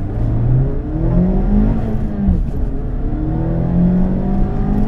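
A turbocharged Mazda MX-5 RF (ND) accelerates hard from standstill, engine note climbing and dropping as it shifts up through several gears, loud and close.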